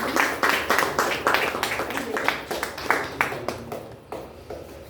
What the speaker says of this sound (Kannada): ಹಾಗಾಗಿ ಒಂದು ಜೋರಾದ ಚಪ್ಪಾಳೆ